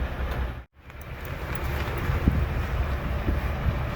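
Strong wind blowing outdoors at a truck stop, a loud continuous rushing roar buffeting the microphone, cut by a brief silent dropout near the start, with no voices.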